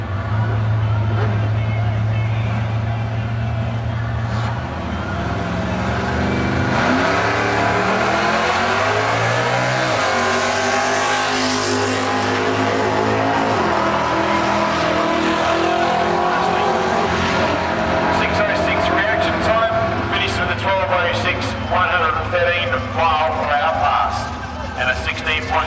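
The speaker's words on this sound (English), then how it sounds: "And the Holden Berliner taking on the City Auto Parts lane." Holden Torana hatchback and Holden Berliner drag racing cars rev and accelerate hard at a drag strip. The engines roar loudly with climbing pitch and fade into a busy, noisy track background, with people talking throughout.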